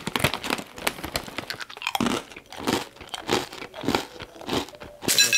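Crunchy rice cracker mix being eaten up close, with a steady series of sharp, loud crunching bites and chewing, the crackles coming in quick rhythmic pulses alone without talk.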